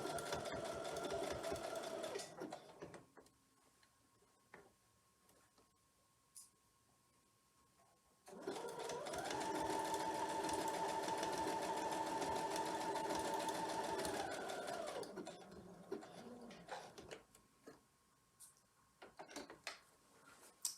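A sewing machine stitches a diagonal seam across a clamshell quilt block, with a short burst of stitching first, then a quiet pause with light handling, then a steady run of about seven seconds followed by faint clicks.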